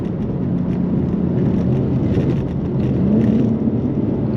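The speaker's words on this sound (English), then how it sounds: "Playing with the rev limiter just a little bit, bouncing off the limiter just a bit" Steady loud engine drone from a 700 hp BMW G80 M3 heard from inside the car while it bounces off the rev limiter, a sustained hum with slight pitch wavering and no distinct cuts.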